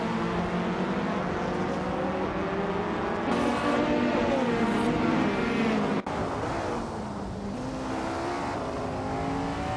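A 1985 Lancia Delta S4 rally car with a turbocharged, all-wheel-drive engine races in a video game, its steady engine drone rising and falling through gear changes, loud and close for the whole stretch.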